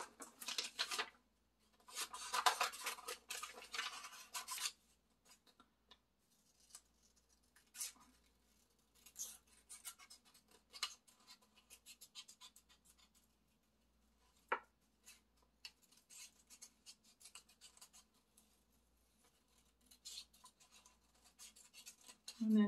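Scissors cutting out a paper fish template, with bursts of close crisp snipping and rustling paper, strongest at the start and returning in scattered stretches between quiet pauses.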